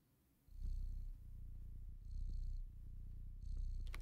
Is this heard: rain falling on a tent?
no